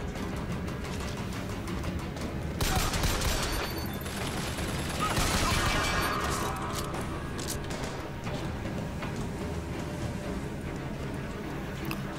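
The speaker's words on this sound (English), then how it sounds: "I heard shots behind me." Gunfire crackles through a Bioshock Infinite battle in bursts of rapid shots, swelling at moments over a busy game soundscape.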